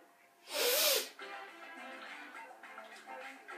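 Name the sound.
cough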